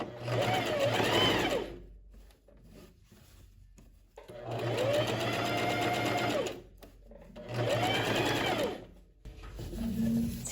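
Sewing machine topstitching a lined tailored vest with a straight visible seam, whirring in three close, steady bursts with brief quiet gaps between them.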